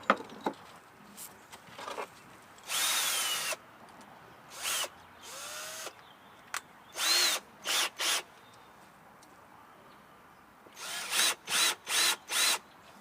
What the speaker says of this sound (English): Putting my countersink holes in.